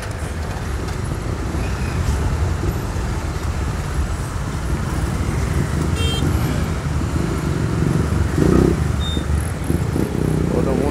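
Busy road traffic in Natal's north zone with many motorcycles, a continuous dense rumble of passing engines and road noise, with a louder pass near the end.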